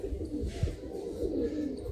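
Madrasi pigeons coo softly in a low, rounded murmur at a pigeon seller's place in Ranihati, Howrah, faint and brief against quiet background noise.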